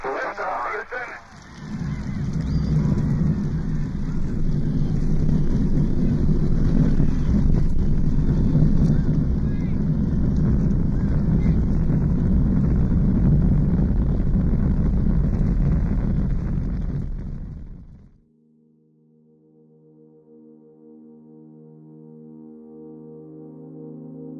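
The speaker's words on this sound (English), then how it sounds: "We have main engine start." The main engines of the Apollo 11 Saturn V rocket roar at launch, a loud, dense, crackling rumble that holds for about fifteen seconds, then cuts off abruptly into quiet tones.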